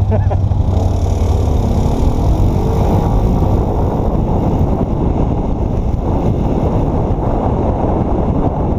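An old car's engine idles while running rich, a steady low rumble close to the microphone during a drive-by birthday parade, with wind buffeting and voices talking over it.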